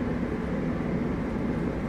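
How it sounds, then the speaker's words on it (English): A shuttle train ride in the video game SOMA gives a steady low rumbling hum of rail travel, constant and moderately loud with no voices. "Alright, such a lovely train ride here."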